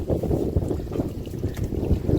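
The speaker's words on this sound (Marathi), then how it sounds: "हे बघा वारा देखील सुसाट्याचा वारा आहे" Strong, gusty wind on a mountain trek, roaring steadily and buffeting the microphone close up with a dense low rumble throughout.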